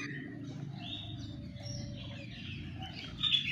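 Birds chirp and tweet in an outdoor aviary roofed with light steel framing and fish-cage netting, several high calls scattered over a steady low background, growing a little busier toward the end.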